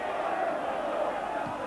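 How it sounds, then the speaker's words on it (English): A football crowd fills Ibrox stadium for Rangers against Hibs with a continuous, distant murmur and rumble, steady and even throughout. "Very good crowd though at the moment,"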